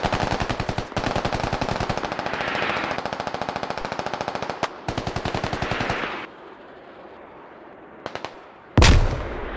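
Automatic gunfire in the military shooter game Squad, loud rapid bursts of rattling shots in long strings that stop abruptly, followed by a quieter lull and a single heavy blast near the end.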